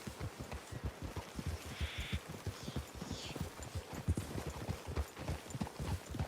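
Horses walking at a steady clip-clop pace in a Red Dead Redemption II forest clearing, hoof falls close and continuous for the whole stretch, with no talk.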